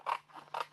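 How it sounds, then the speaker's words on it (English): Scissors snip through white cardstock to cut out a center opening, with two crisp, close cuts and a softer scrape of the blades between them. "let's just come in and actually cut the center out"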